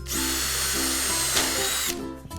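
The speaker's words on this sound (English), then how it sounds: "Now you will need to drill holes for these." A power drill whines steadily while boring through the metal channel of an Absco flat-roof shed kit, a close, loud sustained spin of about two seconds that stops abruptly.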